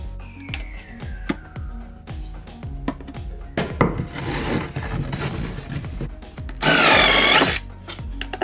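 Plywood is cut in a home basement, first with a run of sharp knocks and taps, then a rough buzzing cut, and finally a brief loud burst of the power saw near the end.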